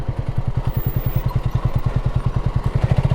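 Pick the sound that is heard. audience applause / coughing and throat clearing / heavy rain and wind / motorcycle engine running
motorcycle engine running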